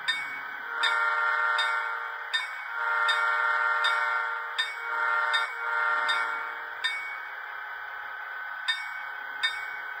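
Horn of a dead rail battery-powered model train with a boxcar battery car: a series of repeated electronic horn toots, some short and some held for a second or more, sounding in an irregular pattern over ten seconds with no talking.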